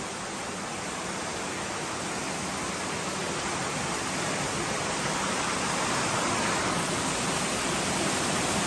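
Constant loud roar of floodwater rushing in on Phuket, a dense broadband wash with no pauses throughout.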